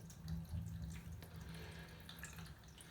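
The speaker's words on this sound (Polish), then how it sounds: "Filtr nie pracuje, a woda spływa." Steady water running and splashing nearby from a hose draining through an unpowered Aquael Ultramax 2000 aquarium filter, a continuous gushing flow with slight surges, and no one talking.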